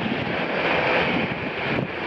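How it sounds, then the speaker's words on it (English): Strong wind blowing outdoors near a mesquite tree on open ground, a steady loud roar of gusts buffeting the microphone throughout with no other clear sounds. "it's windy out here"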